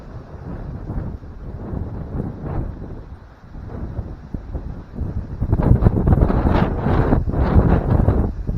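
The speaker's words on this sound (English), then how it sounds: "This wind is really bad this morning." Strong morning wind buffets the microphone outdoors, a steady low rumble that swells louder and rougher in the second half, with no speech.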